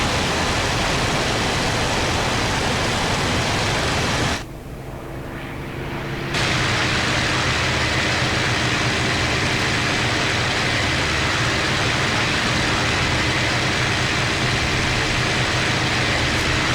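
A WWII fighter-bomber's engine drones steadily in flight in the IL-2 Sturmovik combat flight simulator. The roar is loud and continuous, dropping briefly to a muffled lull before returning at full strength.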